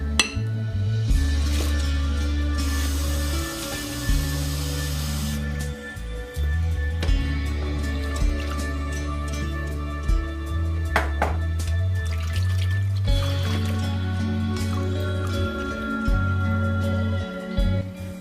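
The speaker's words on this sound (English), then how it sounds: "we're gonna rinse the vegetable a few times" Water splashes and sloshes in a bowl with intermittent clinks, as produce is swirled and rinsed repeatedly, close by with no talking.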